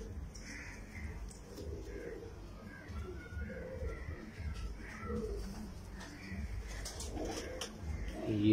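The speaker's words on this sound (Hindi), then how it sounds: "आजकल, क्रीज में है कबूतर माशाल्लाह।" Pigeons on a rooftop in breeding season give soft, repeated low coos close by, while someone talks over them throughout.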